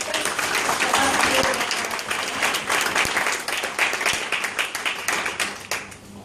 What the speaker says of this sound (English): give everyone here a round of applause